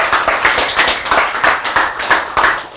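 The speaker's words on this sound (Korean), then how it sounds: "박수!" A small congregation at a Korean church sermon claps in a brisk, even rhythm, about a dozen sharp, close hand claps in quick succession with no talk over them.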